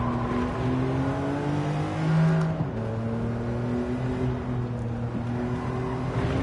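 A car engine in Gran Turismo 7, played on a PS5 Pro with PSVR2, revs and drones at a steady moderate level, its pitch rising and falling slightly with a brief shift, with no voices.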